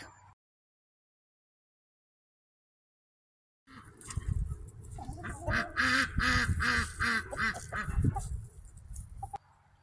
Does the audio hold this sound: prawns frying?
no